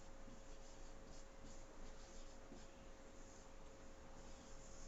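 Chalk or marker writing the word Asia on a board, faint scratchy strokes in short bursts against a quiet room with a steady electrical hum.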